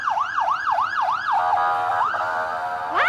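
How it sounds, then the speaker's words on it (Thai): Ambulance siren at a street protest, loud and close, wailing in rapid rising-falling sweeps, then holding a steady tone before starting to rise again. "มีรถพยาบาลเข้ามาค่ะ"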